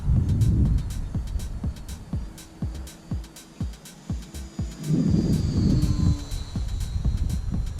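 A small FliteTest FT Racer foam RC propeller plane whines overhead, its engine pitch rising and falling as it passes, with gusty wind rumbling across the microphone.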